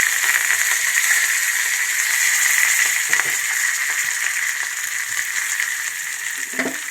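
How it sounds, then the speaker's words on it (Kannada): Mustard seeds, chana dal, chillies and curry leaves fry in hot oil for a barley dish, giving a steady, close sizzling hiss that runs unbroken throughout with a few faint stirring scrapes and clicks. "ಸ್ವಲ್ಪ ಕ್ಯಾರೆಟ್ ಬರುತ್ತೆ ಇವನ್ನೆಲ್ಲ ಚೆನ್ನಾಗಿ ಫ್ರೈ ಮಾಡ್ಕೋಬೇಕು"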